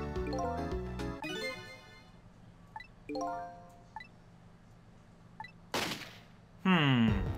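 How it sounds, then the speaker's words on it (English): Gunshot in the video game Ghost Trick: a sharp broadband crack near 5.8 seconds, set among synthesized game music tones and chimes, with a second burst of effects just after. No talk. "And there was a gunshot to really punctuate that."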